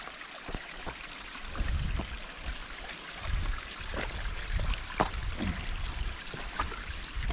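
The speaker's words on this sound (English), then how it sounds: "Got this little waterfall right here" A small waterfall on a mountain trail near Silver Peak splashes and trickles close by, a soft steady stream punctuated by brief sharper splashes and knocks.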